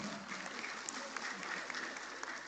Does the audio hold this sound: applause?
yes